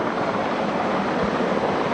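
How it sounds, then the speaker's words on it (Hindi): Navy helicopter flying during a Navy Day combat demonstration over the coast at Malvan, Sindhudurg, a steady, loud broadband rotor and engine roar holding without a break throughout. "दूसरा हेलीकॉप्टर इस समय ऑपरेशन कर रहे हेलीकॉप्टर को सुरक्षा प्रदान करते हुए"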